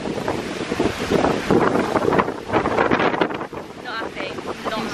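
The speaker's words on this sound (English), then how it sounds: "I wasn't joking about the wind." Strong wind blows across the microphone outdoors on a Miami outing, making loud, uneven buffeting gusts that rumble throughout, with faint voices partly buried beneath.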